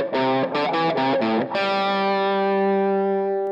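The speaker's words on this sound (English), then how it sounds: "playing it on the guitar, that's where it mattered" Distorted electric guitar plays a short phrase of several quick picked notes, then lets a final note ring out and sustain, loud and close.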